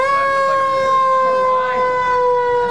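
A siren sounds from a vehicle rolling along in a parade of hearses, a loud, steady tone held without rising or falling. It plays alone, with no voices over it.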